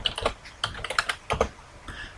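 Typing on a computer keyboard: irregular clusters of crisp key clicks, close and clear, with short pauses between bursts and no talk.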